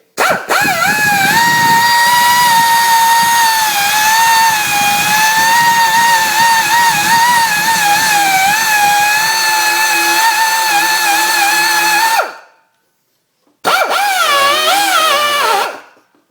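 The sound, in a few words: die grinder cutting Polaris Sportsman 500 air box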